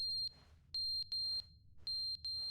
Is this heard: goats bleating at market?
no